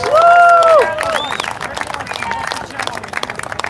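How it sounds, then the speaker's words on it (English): Outdoor crowd applause and cheering at a march on Parliament Hill, a broad wash of clapping and voices in the background. A whistle-like tone is briefly heard near the start, and people speak over the crowd noise. "give yourselves a round of applause for being on the right side of history and protecting Canadian kids"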